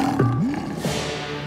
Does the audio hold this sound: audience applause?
no